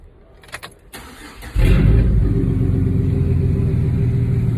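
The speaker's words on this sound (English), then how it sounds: "We're gonna be starting the truck up with the MAP sensor unplugged." A truck engine, started with its MAP sensor unplugged, cranks briefly after a few faint clicks, then catches and settles into a loud, steady rumbling idle nearby.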